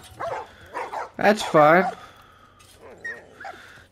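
Dogs in the video game The Last of Us bark and whimper in short bursts near the listener, with a loud yelping cluster in the middle, while someone speaks briefly over them.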